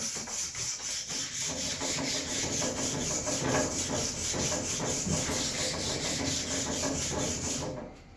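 Old block plane iron rubbed back and forth on 80 grit paper laid over a big slab of granite, a continuous, close, gritty scraping with steady rhythmic strokes that fades at the very end.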